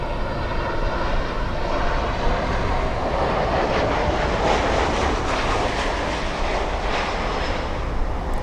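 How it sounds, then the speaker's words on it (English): A loud, steady roar of jet engines as an Alaska Airlines airliner from Seattle arrives at Miami International Airport, a broad rumbling wash holding level and close throughout with no pauses. "Alaska Airlines flying in from Seattle"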